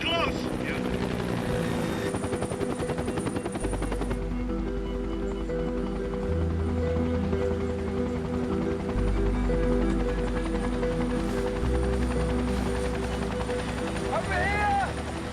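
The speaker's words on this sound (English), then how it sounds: "But the instant that I hear that helicopter, I snapped to attention." A helicopter flies close by, its deep rotor thump and engine drone loud and continuous, with shifting low pulsing tones as it moves overhead. Voices speak intermittently over the steady machine noise.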